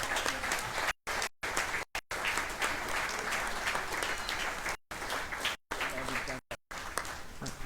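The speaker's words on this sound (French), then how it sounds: "Je pense qu'on peut applaudir nos 8 conseillers de police." Applause fills a municipal council chamber for eight newly elected police councillors, a sustained crowd of clapping hands broken by several brief dropouts, with voices mixed in beneath.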